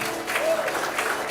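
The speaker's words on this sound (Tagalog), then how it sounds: "Palakpak nga ng malakas." A church congregation claps at a worship service in Dubai, dense steady applause filling the short stretch, with a voice faintly underneath.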